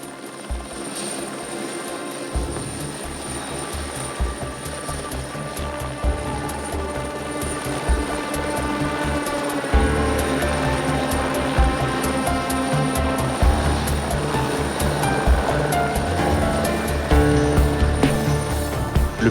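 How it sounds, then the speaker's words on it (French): A helicopter ferries stadium lighting masts, its rotor and engine roaring steadily and loudly for the whole stretch, with a dense whine above the thudding blades and no voices. "c'est l'hélicoptère qui prend le relais"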